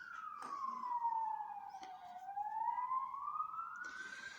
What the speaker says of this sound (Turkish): Yine ambulans gidiyor.